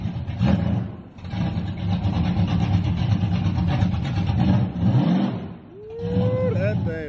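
A 1971 Chevelle with a big block V8 rumbles loud and close, its engine rising and falling through a few rev swells with brief dips between them, while voices are partly heard over it.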